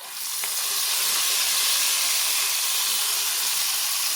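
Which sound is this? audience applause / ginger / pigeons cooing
ginger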